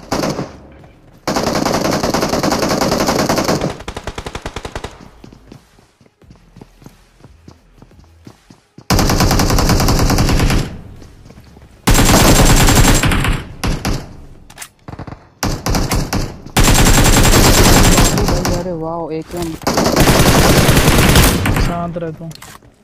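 Loud bursts of automatic gunfire from a gun in a mobile shooting video game come in several long, sustained volleys separated by quieter gaps with brief talk.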